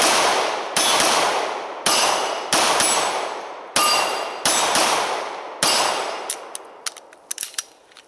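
Seven sharp shots from a SIG P226 9mm pistol at a firing range, evenly spaced, each ringing out with a long decaying tail, followed by fainter clinks and metallic clatter.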